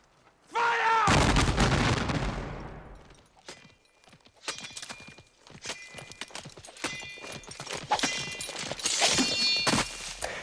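A single loud rifle volley from Civil War infantry in the film Glory bursts out after a shouted command, then fades into scattered crackles, shouting voices and horse hooves.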